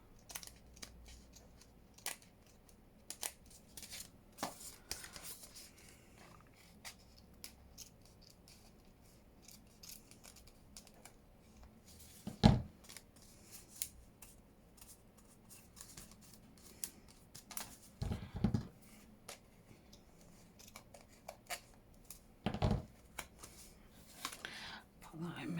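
Paper being trimmed with scissors while making a long-flap envelope from patterned craft paper: scattered quiet snips and paper rustles, with one sharper cut near the middle and a few more toward the end, under soft, intermittent talk.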